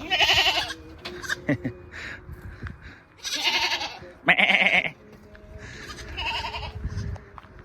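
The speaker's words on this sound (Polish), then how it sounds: "Kozy sobie tutaj jedzą." Goats bleat repeatedly while eating hay at a village in Berastagi, Indonesia, with several loud, near calls overlapping amid quieter background noise.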